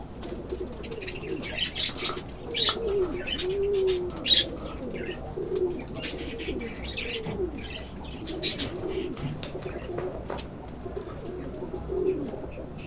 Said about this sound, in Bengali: দেখতেই পাচ্ছেন পাখিগুলো এই সুন্দর ঘরটা পেয়ে কিভাবে উড়াল দিচ্ছে